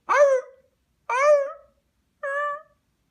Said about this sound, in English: when they bite the other pup, that pup will then squeal